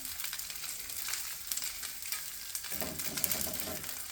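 Sausages and beef sizzling in a pan, a steady crackling fry with bursts of spitting and pops, close and fairly quiet, no talk.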